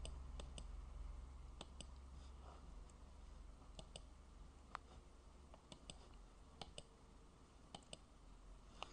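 Sparse computer mouse clicks, quiet and close, single and paired taps spaced irregularly over a low steady hum, with no talking.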